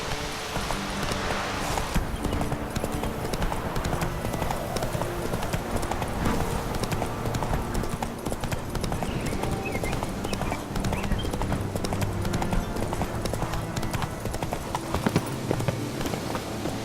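Roach, Geralt's horse in The Witcher 3, clip-clops along steadily, hoofbeats close and continuous under a dense bed of game music and ambience, with a faint whinny possible.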